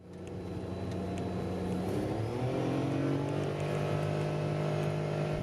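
A Daihatsu Move kei car with 14-inch wheels and narrow tyres, heard from inside at highway speed near 100 km/h, giving a steady droning engine and road noise with a slowly rising whine and no talking.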